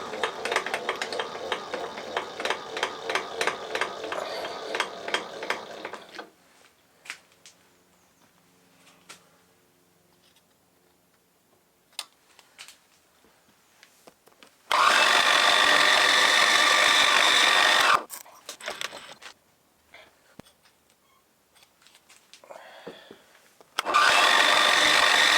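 A machine tool drills clearance holes in a steam engine connecting rod, heard as loud sustained bursts of whirring and cutting separated by quieter gaps with clicks and handling noises.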